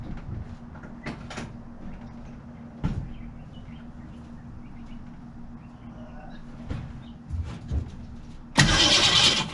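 A 1967 Mercury Cougar engine, not run for ten years, cranks with a few low clunks and thuds, then catches near the end in a sudden loud, rough burst of engine noise, with no voices.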